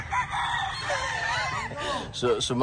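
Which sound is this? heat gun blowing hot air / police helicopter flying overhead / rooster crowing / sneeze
rooster crowing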